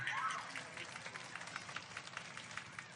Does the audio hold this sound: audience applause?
yes